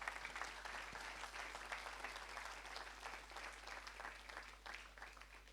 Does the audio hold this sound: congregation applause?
yes